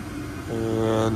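A household gas furnace's blower runs as a steady broadband whoosh with a low hum, the tone rising and thickening midway as the igniter heats up, all at close range.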